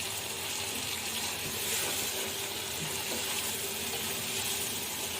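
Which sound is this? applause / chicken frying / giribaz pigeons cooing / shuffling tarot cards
chicken frying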